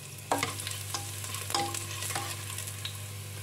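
Garlic frying in a pan, a close sizzle broken by a few sharp scraping and stirring knocks, with a steady low hum underneath and no speech.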